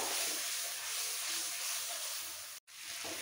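Green chilli paste sautéing in a pan for masala chana dal, a loud, steady close hiss of frying that briefly cuts out near the end before resuming.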